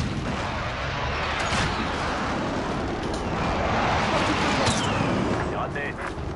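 Airstrike explosions in the shooter Warzone, a dense continuous barrage of overlapping blasts and rumbling booms, loud and unbroken, with radio voices speaking over the din.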